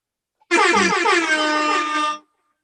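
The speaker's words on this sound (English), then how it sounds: "that deserved the air horn right there" One loud, long blast of an air horn, close and piercing, lasting under two seconds before cutting off.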